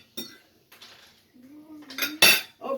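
Cutlery scraping and clinking on a plate while cutting a homemade cheese-centre cheeseburger, in a few short bursts with a brief tonal scrape and a louder clatter near the end, close and alone.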